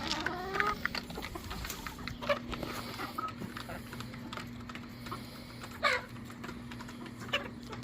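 Backyard chickens cluck and chatter around a PVC pipe feeder, with scattered short calls over a steady low hum and occasional clicks and knocks close by.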